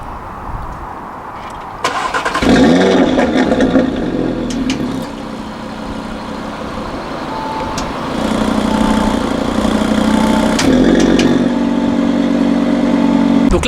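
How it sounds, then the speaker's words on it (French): An Audi RS3 saloon with a 400 hp engine starts with a loud crank and flare, then idles and revs strongly in sport mode, the engine note swelling and settling several times close by. "là je vous ai filmé le démarrage de l'Audi RS3"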